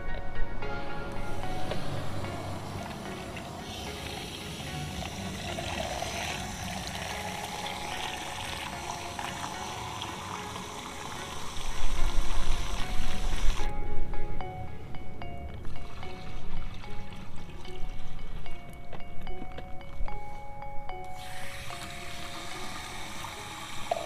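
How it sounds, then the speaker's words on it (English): Water runs steadily into a backpack sprayer tank for lawn weed treatment, a soft continuous pouring and gurgling that swells louder midway, then settles back, with no talking. "and then we'll fill up the rest of the tank."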